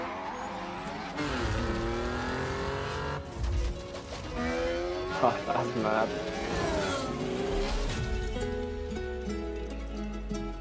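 Racing cars from the Forza Horizon video game, a 4x4 and an AMG, with engines droning and revving steadily under game music while people talk over them throughout.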